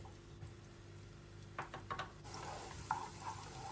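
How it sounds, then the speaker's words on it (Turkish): Chopped onions sautéing in a pan as the base for a green lentil bulgur pilaf, a low steady sizzle with a few stirring scrapes and clinks, close by and fairly quiet. "Üzerine soğanları ilave ediyorum ve soğanları iyice kavuruyorum."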